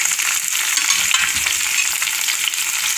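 Tomatoes fry in a pan with ginger garlic paste for a potato, pea and cauliflower curry, giving a steady, close, dense sizzle with the scrape and shuffle of stirring throughout.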